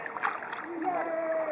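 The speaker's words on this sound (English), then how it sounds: "Splash, splash, splash." A small child splashes water in a swimming pool. Quick, close splashes come under an adult's voice.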